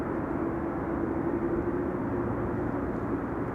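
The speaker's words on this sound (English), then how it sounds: "Yeah, this engine is already spinning." Airliner jet engine spooling at Amsterdam Schiphol Airport, heard as a steady, continuous roar with a faint sustained whine, moderately distant and unbroken throughout, with no voices.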